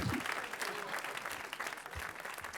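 A comedy club audience at a stand-up special bursts into steady cheering and applause, a dense continuous wash of clapping with scattered shouts that holds loud for the whole moment.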